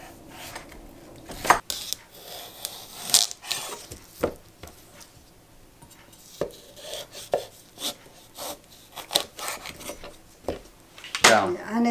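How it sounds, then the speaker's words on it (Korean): Knife halves a cucumber on a cutting board in a home kitchen, a run of uneven close chops, taps and scraping strokes, with a few louder knocks and light talk in the background. "오이를 반절 잘라서"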